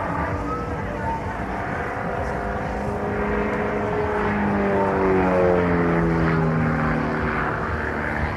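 A vintage 1933-design light aircraft fitted with a 160 horsepower Lycoming engine drones steadily at an air show, its propeller tone sliding and rising as it passes fairly close and loud for several seconds.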